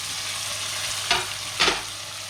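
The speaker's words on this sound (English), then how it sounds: "now I'm going to throw my onions in. So then we throw our onions in. You can hear that sizzling" Onions hitting hot oil in a pan for chicken tikka bhuna, a steady frying hiss broken by two sharp bursts of sizzle as they drop in and get stirred.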